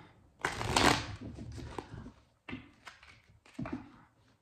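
A deck of playing cards being shuffled, a loud riffling burst followed by two shorter shuffles, close and clear with no talk.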